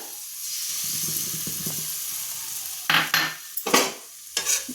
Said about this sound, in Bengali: এবার আমি এটাকে নাড়াচাড়া করে ভালো করে ভেজে নেব